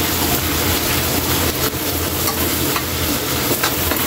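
Onion and garlic sauté in hot oil for chicken adobo, giving a steady, loud, close sizzle with crackling and occasional stirring scrapes throughout, no voices.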